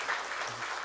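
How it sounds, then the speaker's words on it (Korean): A church congregation gives a short round of congratulatory applause, a faint, distant wash of clapping heard only briefly. "우리 축하의 박수를 보내겠습니다"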